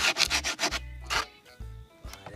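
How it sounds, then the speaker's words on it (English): Close, rhythmic strokes of sandpaper rub along the edges of a wooden DIY floating shelf, a quick run of back-and-forth scrapes followed by a few slower, separated passes, with no talking. "I'm sanding away at the edges."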